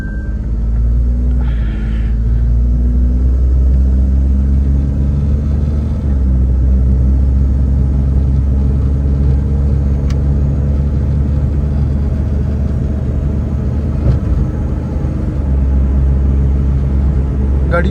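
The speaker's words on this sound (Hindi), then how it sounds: "गाड़ी की शिफ्टिंग अल्हम्दुलिल्लाह बहुत स्मूथ है, आपको फील भी नहीं हो रहा होगा कि गाड़ी शिफ्ट कर रही है" Suzuki Alto VXR 660cc automatic car driving along, a steady low engine and road rumble heard from inside, with subtle smooth shifts and no pauses.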